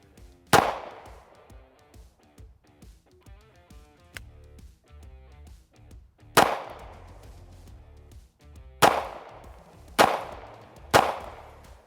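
Fusion Firearms XP Pro 2011 pistol firing 124 grain ammunition: five sharp, loud shots with long gaps, the last three closer together, each followed by a brief ringing decay in an outdoor range setting.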